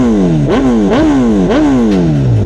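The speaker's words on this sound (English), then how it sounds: "Let me give you guys a couple revs just in case the audio wasn't working earlier" A Suzuki GSX-R1000R sportbike engine is blipped up close, three or four sharp throttle revs in quick succession, each climbing then dropping back, loud and crisp.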